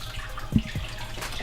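Water drips and splashes as cooked chicken is lifted out of a pot of cooking water, a brief soft splash followed by a few faint trickles, close by with no talking.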